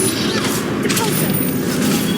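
The Depulso force spell cast in Hogwarts Legacy lets out a dense, sustained whooshing blast with rumbling low end and crackling bursts, loud and continuous for a couple of seconds.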